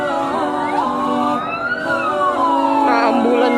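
An ambulance siren wails at a house fire in a village in Telaga Jaya, Gorontalo, its rising and falling tone sweeping steadily and fairly close, with faint background noise.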